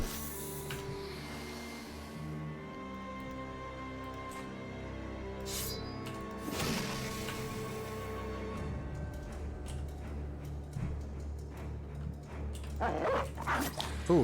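War dogs barking, yipping and whimpering in a nighttime battle in the Battle Brothers video game, repeated dog sounds layered with game music and battle noise, with bursts building toward the end.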